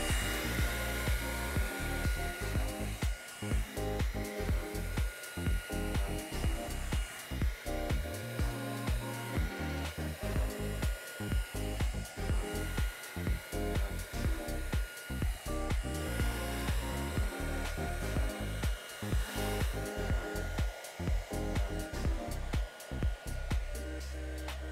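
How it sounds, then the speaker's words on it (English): A handheld blow dryer drying and styling hair into a sleek look, running steadily and loudly for the whole stretch with a continuous airy roar and a constant motor whine. "You always want to direct the hair with your blow dryer to where your finished look is gonna end up."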